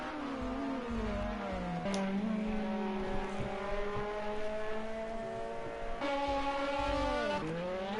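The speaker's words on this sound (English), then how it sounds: "I heard his engine, his RPMs dropping. I think he just went for a little spin, lost about 2 seconds." A race car in Project CARS 2 spins out during a long endurance race, its engine note whining and sagging as revs drop, with tire squeal and another car's engine sweeping past.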